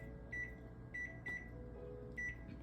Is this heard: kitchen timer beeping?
yes